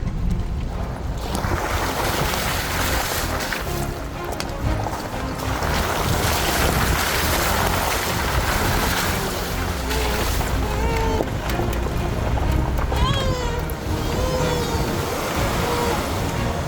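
Glacier meltwater stream rushing steadily amid strong wind buffeting the microphone, a broad continuous roar outdoors in a mountain valley, with faint voices underneath.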